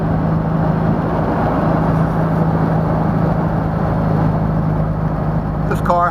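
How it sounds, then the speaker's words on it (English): Replica 1957 Porsche 356A Speedster with a 170 horsepower Subaru boxer engine and 5-speed transaxle cruising, a steady droning engine and road rumble filling the whole clip without a break. "take a little Sunday afternoon cruise in one of our 356A Speedster replicas"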